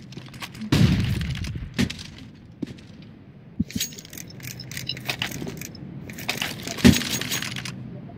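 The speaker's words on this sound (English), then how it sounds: "Throwing flashbang." Flashbang grenades go off in a video game, two sharp close bursts about six seconds apart, trailed by glassy clattering, jingling debris and scattered crackles.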